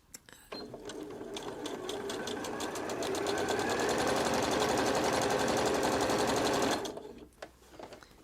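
A sewing machine stitches reusable cotton facial cleansing pads, a steady close rhythmic whirring run of about six seconds that speeds up midway, then a back stitch and stop, with quiet handling before and after.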